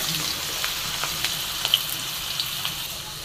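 Sweet pumpkin pieces hitting hot oil in a pan for a home-style vegetable dish, giving a steady broad sizzle with a few sharp crackles and pops, close and alone.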